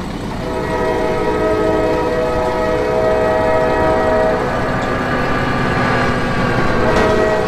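A loud fire truck siren wails in sustained tones over a low rumbling engine, rising and holding steady throughout, with no talking.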